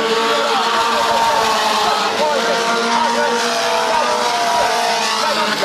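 Race cars sliding around a dirt oval track at a Granby racing final, a loud continuous engine roar with revving, warbling pitch sweeps, close and sustained throughout, under excited announcer commentary.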